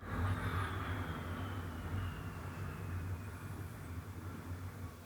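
A pair of A-10 Warthog jets pass low over a house, heard indoors as a loud, continuous, rumbling roar with a hissing whine on top that holds steady throughout, no voices.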